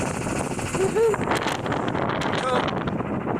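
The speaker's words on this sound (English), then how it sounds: "Just motoring. We're going straight up into the wind" A sailboat motors straight into the wind near Anacortes, Washington, with steady rushing wind buffeting the microphone over a low engine drone, and a voice talks over it.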